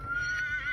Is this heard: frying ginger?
no